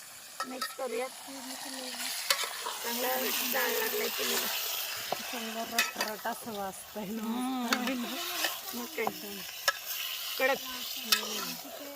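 Chicken frying in a pan on a wood-fired stove with onion, a steady crackling sizzle with occasional stirring scrapes, running beneath a person talking throughout.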